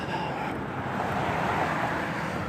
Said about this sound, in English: That's cars pretty much just passing by.